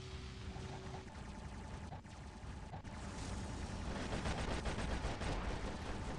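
Dense, continuous gunfire in an Icarus video game battle, a sustained roar of rapid shots that grows heavier toward the end, loud and unbroken.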